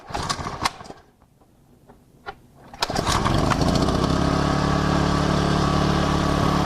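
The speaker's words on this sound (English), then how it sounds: "Push the choke, start the unit, let it warm up while you hook up the hoses." A gas engine on a hydraulic power unit, choke pushed in, catches after a few brief clicks and a quiet pause, then roars into a loud, steady, close-up run as it warms up.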